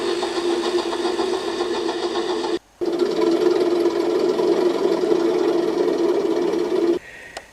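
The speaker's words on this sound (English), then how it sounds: "Thomas the Tank Engine was doing his goods train from Devonport, taking it to Queenstown" A cartoon tank engine hauls a goods train with a steady, loud mechanical hum and chug. The sound runs continuously except for one brief cut, with no talking.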